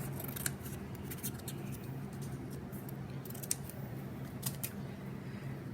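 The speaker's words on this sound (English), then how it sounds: "So I'll grab my scissors and just trim off a piece there." Scissors trim a piece of kraft cardstock for a papercraft tea cup card, giving a few faint, sharp snips over a steady background hum.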